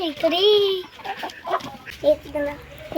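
Village desi hens in a hen house give bursts of clucking and squawking up close, with a voice and another person talking in between.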